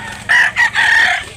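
A year-old blue-legged rooster for sale at a fowl market in Consolacion, Cebu, crows loudly and close up in one drawn-out call with a brief break near the start.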